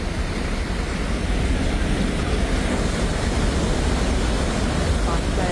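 Strong floodwater surges in a heavy, unbroken roar, a dense broadband rush that stays loud and steady throughout with no clear breaks.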